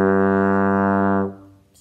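A single sustained trombone note played with the slide in fourth position, steady and full for about a second and a quarter before it cuts off, heard alone with no talking.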